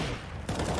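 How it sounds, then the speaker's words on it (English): Gunfire in the game Counter-Strike: Global Offensive during a match, heard as a brief loud burst of shots cutting in sharply over a noisy background. "Oh, KNG, that is a great shot"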